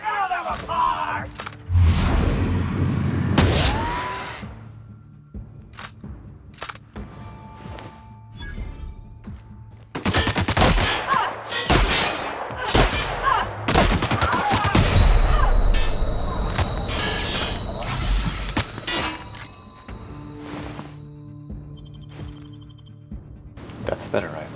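Rifle gunfire in a video game rings out in repeated sharp bursts, some in quick clusters, loud and close, mixed with in-game voices and other game effects.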